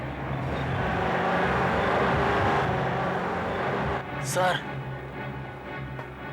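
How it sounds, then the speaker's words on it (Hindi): A car approaches a roadblock near Mandli checkpoint in a horror drama, heard as a steady engine rumble throughout, with one brief spoken word partway through. "किसी गाड़ी की आवाज आ रही है।"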